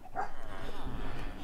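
A household dog named Bowser gives short yips and whimpering barks, close and moderately loud, with a voice speaking over them.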